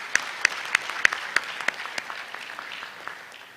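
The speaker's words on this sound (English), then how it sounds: "Please give them a round of applause." Audience applause for a choir at an induction ceremony, a loose patter of separate claps that soon thins into a soft, scattered wash, moderately loud in a large room.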